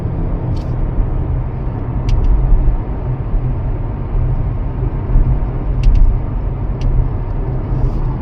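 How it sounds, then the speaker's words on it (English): A 2018 Honda Accord with a 1.5L turbo engine on a test drive, with a steady loud cabin rumble of road and engine noise and a few faint clicks and ticks scattered throughout. "So I'll take this for a test drive."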